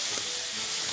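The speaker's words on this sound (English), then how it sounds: "All this sizzling, steaming," Food sizzles and steams in a hot pan after mustard goes in, a steady close hiss of frying that fills the short moment with no talk over it.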